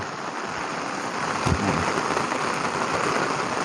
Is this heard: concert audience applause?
no